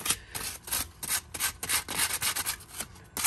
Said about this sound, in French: je finis de poncer ça